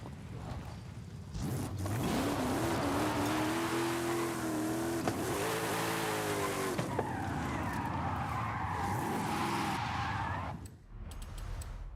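Cars drifting in the Open Drift racing game, a Nova chased by a Monty in a convoy tandem, with engines revving loudly and steadily, rising and falling in pitch, and tires squealing for about nine seconds before cutting off abruptly.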